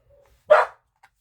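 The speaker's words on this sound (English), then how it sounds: "Oh, they're going to keep barking." A single sharp dog bark, fairly close, with near silence around it.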